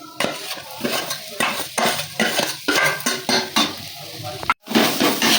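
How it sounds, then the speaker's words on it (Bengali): Pieces of rohu fish are mixed with spices in a pan for fish cutlets, loud close rhythmic stirring and scraping with a light sizzle, broken by one brief silence near the end. "মশলার সঙ্গে মশলাগুলো মিশিয়ে নেব"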